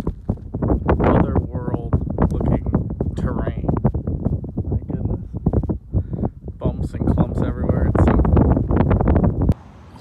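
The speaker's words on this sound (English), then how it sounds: "it is incredibly windy and hard to hear what I'm saying" Heavy wind rumbles and buffets the microphone throughout while a person talks over it in the Badlands, the gusts loud and close.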